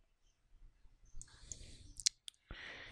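Sharp, close computer mouse clicks land on an icon in ARCHICAD software, a couple of quick taps over a quiet background.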